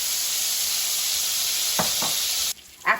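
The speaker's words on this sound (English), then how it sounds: "After your patties are done frying for a bit more time" Burger patties fry in a pan with a loud, steady, hissing sizzle, interrupted by a couple of short scraping stirs. Near the end the sizzle drops away briefly before another scrape.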